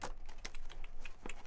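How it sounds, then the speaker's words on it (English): Playing cards are shuffled for an intuitive energy reading, a faint, rapid patter of soft clicks and riffles close by with no talk. "just kind of shuffle until I feel the call to stop and select some cards"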